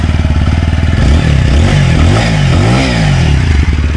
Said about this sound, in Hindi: इसको जरा स्टार्ट करते हैं, फिर आपको जो है एग्जॉस्ट नोट सुनाता हूँ।